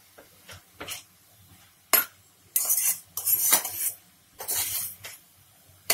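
Spoon scraping and stirring carrot halwa with added khoya in a metal pan, a few loud scraping strokes separated by short pauses, close and without talking.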